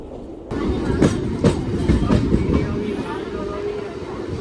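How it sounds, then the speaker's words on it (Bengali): A local train pulls out of Bolpur station, wheels thudding in a steady clickety-clack rhythm over a continuous rumble, loud and close from inside the carriage. "বোলপুর স্টেশন ছেড়ে দিল"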